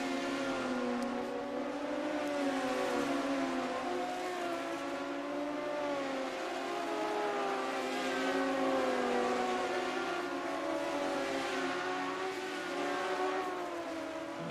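Several BMW M88 straight-six race car engines wail together at a 1980 Austrian Grand Prix, a sustained layered high-pitched howl with slowly shifting pitches from a pack of cars, steady and fairly distant, no voices.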